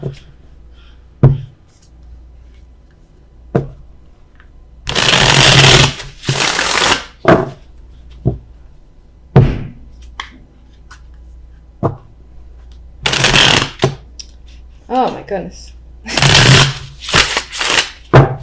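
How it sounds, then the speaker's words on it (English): Tarot cards are shuffled in several loud, crisp riffle bursts separated by pauses, with faint handling noises and a brief exclamation from a woman in between. "If I can shuffle."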